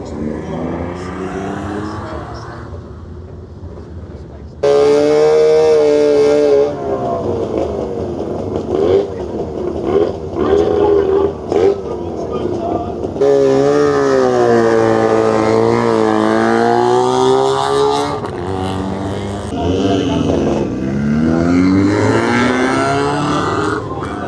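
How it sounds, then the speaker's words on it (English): A car engine revs and climbs in pitch as it pulls up a hill-climb course at a festival, loud and close, with repeated rises and shifts and a voice speaking over it. "The car will now find its way up the hill."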